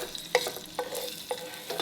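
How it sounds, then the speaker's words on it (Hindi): Chopped garlic frying in oil in a pan, a soft close sizzle with four distinct spatula scrapes spaced roughly evenly, fairly quiet and free of speech. "गार्लिक को लाइट सा गोल्डन कलर होने तक फ्राई करेंगे।"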